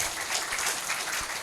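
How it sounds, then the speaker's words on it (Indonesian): A church congregation at an on-site worship service applauds, a brief dense wash of clapping from many hands, fairly close and steady throughout. "Kasih tepuk tangan dulu."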